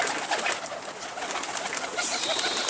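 Pigeons cooing nearby with a soft flurry of wing flapping, a bird fluttering close to the microphone amid a busy outdoor street background.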